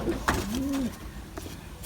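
Racing pigeons coo while feeding, one clear rising-and-falling coo close by with a short sharp knock before it and faint scuffling after.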